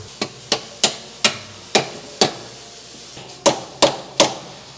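On a Cadillac CTS-V, a hammer taps a suspension arm back into place with nine sharp metallic strikes, six in a steady run and three more after a short pause, close and clear.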